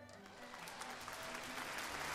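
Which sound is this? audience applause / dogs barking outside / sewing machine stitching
audience applause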